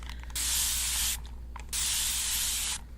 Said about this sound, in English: I'm gonna spray you with this